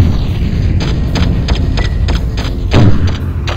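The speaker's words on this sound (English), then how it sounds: "He's firing his torpedoes." Torpedoes firing in the tank combat game Battlezone 98 Redux: a steady run of short thumping shots about every quarter second over a constant engine rumble, with one heavier boom near the end.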